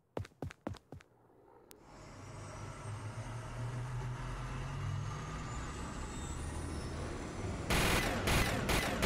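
Hornet aircraft miniguns in Garry's Mod (Wac Aircraft) open up after a few sharp shots, a sustained loud roaring rattle of rapid fire over a low engine drone, with fresh bursts near the end.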